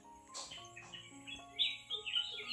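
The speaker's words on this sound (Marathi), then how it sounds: "पक्ष्यांचा आवाज घ्या" Several birds chirp and tweet nearby after rain, in short, bright bursts, with varied calls overlapping against a quiet background.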